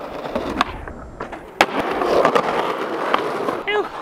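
Skateboard flip trick attempted on a real skate-shop board, with several sharp wooden clacks and board impacts against ground, a rolling rumble between them, close and fairly loud over outdoor background.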